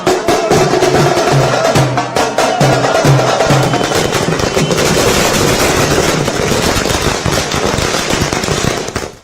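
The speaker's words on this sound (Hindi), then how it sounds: "कहीं ढोल नगाड़े और पटाखे तो कहीं जश्न हो रहा था" Firecrackers exploding at a street celebration after a ministerial swearing-in, a loud, dense, continuous barrage of rapid cracks and bangs lasting about nine seconds before tailing off.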